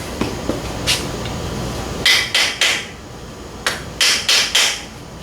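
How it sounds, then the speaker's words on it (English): Hammer tapping a screwdriver to tighten oil valves on a VW 1600 short block: three sharp metallic taps, a lone tap, then two quick groups of three, crisp and close with no talk. "I use a screwdriver and a hammer."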